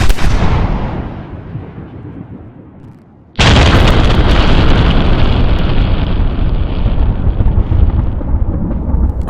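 A rifle-shot Tannerite target detonates outdoors with a sudden, massive boom that follows a fading rumble and then roars on loudly for several seconds, heavy low-end thump and rolling echo.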